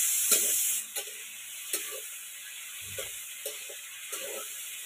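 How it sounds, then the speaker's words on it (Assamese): Meat and potatoes sizzle softly in a pan, a steady hiss broken by occasional stirring scrapes and taps, close and fairly quiet. "এতিয়া যিহেতু ভাজি আছে মাংসখিনি"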